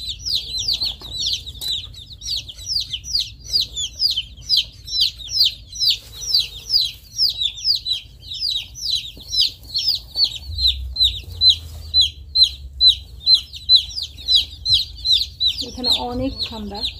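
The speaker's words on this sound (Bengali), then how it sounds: "একটা হাঁসের বাচ্চা।" Day-old ducklings and chicks peep in a rapid, continuous chorus of high chirps at close range over a low background hum, with a brief voice near the end.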